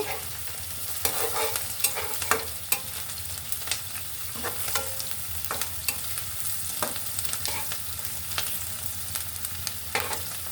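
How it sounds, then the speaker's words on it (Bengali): Onions frying in a pan give off a steady, close sizzle, broken by frequent sharp clicks and scrapes from stirring, with no voices. "পেঁয়াজটা ভালো করে ভেজে নিব"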